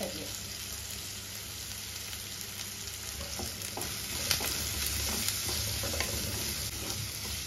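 About fifteen sliced shallots fry with green chillies and curry leaves in a pan for a prawn theeyal, a loud continuous sizzle with occasional stirring scrapes throughout.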